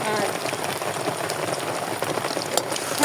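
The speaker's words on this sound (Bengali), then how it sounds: "আর দেখুন ধরে রাখছি এই যে এদিকে বৃষ্টি হচ্ছে" Steady rain falling outdoors, a dense, continuous pattering hiss with scattered close drop taps, fairly loud and unbroken for the whole stretch.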